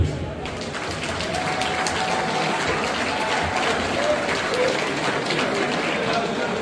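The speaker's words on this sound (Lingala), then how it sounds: "De nouveau, vous pouvez les applaudir." A crowd claps steadily and enthusiastically, a dense, sustained round of applause that continues throughout.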